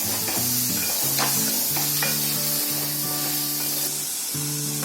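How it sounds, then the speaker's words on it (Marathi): Masala fries in hot oil with a loud, continuous hiss and sizzle, while a utensil stirs and scrapes through it in short strokes over faint background music. "हे असं तेल दिसतो तेवढ्यापर्यंत आपल्याला फ्राय करायचा असतो."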